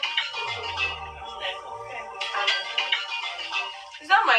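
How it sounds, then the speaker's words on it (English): A mobile phone plays its ringtone for an incoming call: a bright melodic tune that repeats over the whole stretch, close and moderately loud, while a voice murmurs briefly near the start. "Is that my phone? Who is calling?"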